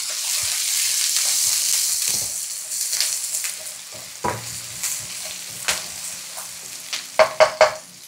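Curry leaves fry in a pan for a vegetarian spinach dhal curry, a steady hiss of sizzling oil at first, then scraping stirs and sharp clacks of the utensil against the pan as the sizzle settles.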